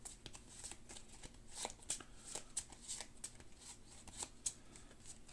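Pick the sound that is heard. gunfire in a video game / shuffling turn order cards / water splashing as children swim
shuffling turn order cards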